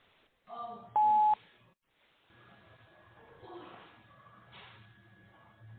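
Beeps and electronic tones from an unmuted phone line on a webinar call, with a loud steady tone lasting a fraction of a second early on, followed by faint shuffling and low muffled noise, and no speech.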